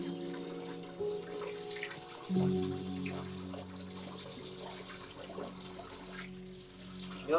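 Water is poured and splashed over a child during a bath, with soft trickling and intermittent splashes heard faintly under background hum and occasional voices.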